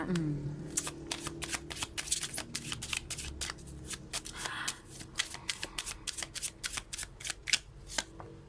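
A deck of tarot cards is being shuffled, making rapid, crisp riffling and flicking bursts that repeat steadily throughout at close range. A voice is faintly audible at the start.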